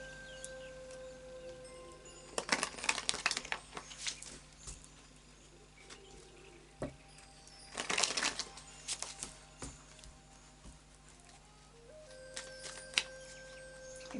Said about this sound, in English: let's do a final shuffle now of the Tarot of Dreams